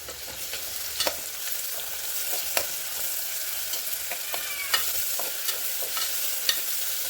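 Ginger and garlic frying in oil while being stirred, a constant sizzle broken by scattered scrapes and clicks of a spoon against the pan.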